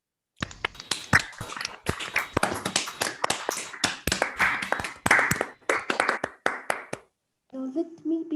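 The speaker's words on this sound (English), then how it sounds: "give Umberto a round of applause" Scattered claps from an online meeting audience for Umberto, several unmuted microphones each picking up close, uneven hand claps that overlap for about seven seconds, then a brief voice.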